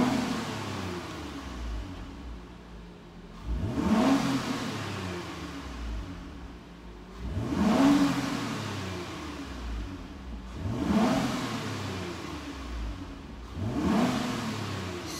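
A 2020 Toyota Avalon TRD engine revs up four times in a steady pattern, each burst rising sharply then settling back to a low idle rumble.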